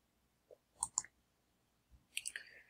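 Computer mouse clicks while saving a layout in a Blogger dashboard: a soft double click near the one-second mark, then a brighter burst of clicks toward the end, close and crisp against near silence.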